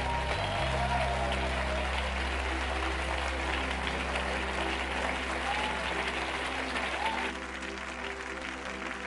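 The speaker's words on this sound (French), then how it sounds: "Let's give Jesus the biggest hand of the morning." A church congregation applauds for Jesus during a morning service, steady dense applause from a large crowd that fills the whole stretch without pause.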